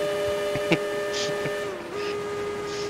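A steam train whistle in the video game Railroads Online holds a steady, sustained multi-toned blast that dips briefly in pitch near the end and keeps going, with a few faint clicks and short sounds over it.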